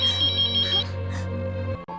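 Phone ringtone in a Hindi film scene, a steady repeating electronic tune ringing loudly and continuously for nearly two seconds before cutting off.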